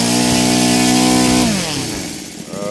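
A Laser 300 engine converted to run on gasoline with a CH ignition roars loud and steady at high revs. Its tone then sags lower before climbing slightly again, with no voices over it.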